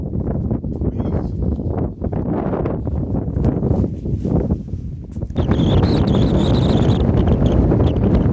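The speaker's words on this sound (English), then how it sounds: "hear the kind of gusts that are coming through, and they seem to be side on, so it's taking a bit of a rattling" Strong wind gusting side-on against a Crux X1 Assault tent at night, low roaring buffets and flapping fabric that rise and fall, with a harsher rattling surge toward the end.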